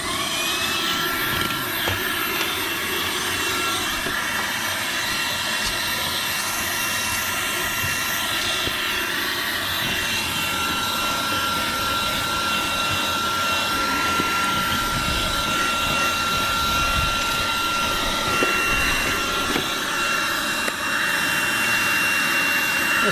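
A Skil Slim Vac cordless vacuum runs on its regular mode, sucking up workshop sawdust with a loud, steady, high whirring roar that holds unchanged throughout.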